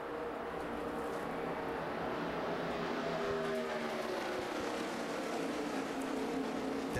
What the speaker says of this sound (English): Elliott Sadler teaming up with Patrick in the draft in that outside lane